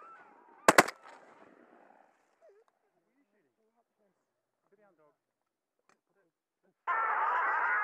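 Shotgun blasts from a Beretta A400 Xtrema fire in a quick close burst while hunting paradise ducks in Northland, New Zealand, followed by quiet and then a sudden loud stretch of duck calling or wingbeat noise near the end.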